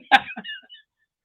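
One sharp, close cough bursts out, followed by a couple of smaller rasping breaths, then silence.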